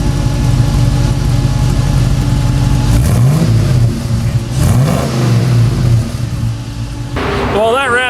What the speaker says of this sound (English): Exhaust system turned out looking pretty good, sounds good, it should function pretty good.